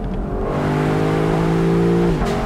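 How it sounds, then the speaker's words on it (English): A 2022 Lexus LC 500 convertible's V8 engine revs up in a rising, sustained roar, heard loud and close, then cuts off sharply as it shifts. "listening to that V8 engine roar, ripping right behind your head"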